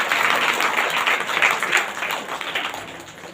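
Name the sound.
congregation applauding loudly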